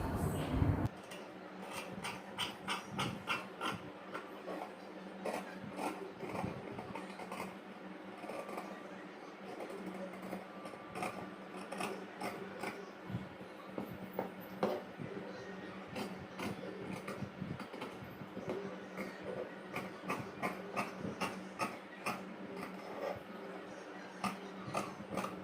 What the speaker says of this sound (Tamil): ஸோ இப்போ அப்படியே நம்ம கட் பண்ணிடலாம்.